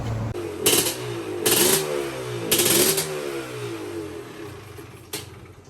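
A two-stroke engine with the choke on revs in several sharp bursts between lower, uneven idling, loud and close, with no talk over it.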